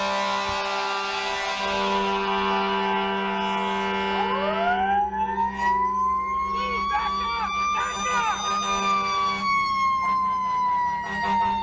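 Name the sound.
fire truck siren blaring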